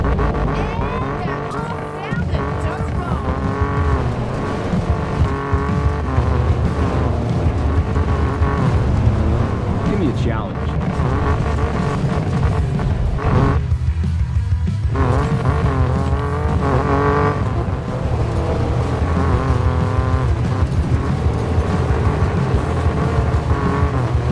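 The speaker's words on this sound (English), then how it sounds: "The racers have switched to their off-road setups." Off-road race cars in Need for Speed Payback roar and rev continuously, with engines rising and falling, tire squeals and passing cars, loud and close throughout, with a brief dip in the middle.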